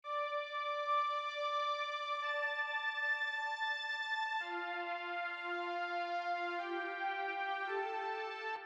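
A plain lead synth melody with no effects plays in FL Studio, as clean sustained tones in a few stepped notes, alone and fairly quiet with no voices.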